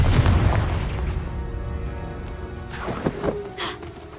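A Confringo fire spell blasts in the video game Hogwarts Legacy: a heavy booming explosion rumbles at the start and decays, followed by sharp crackling bursts and a bright whoosh near the end.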